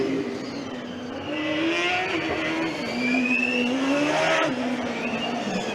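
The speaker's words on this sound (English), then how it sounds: "I think Ren Team Stuttgart is still going at full racing speed." A Rennteam Stuttgart Formula Student race car at full racing speed during an endurance session, its engine note rising and falling through gear changes with a hint of tire squeal, heard from a distance under faint crowd ambience.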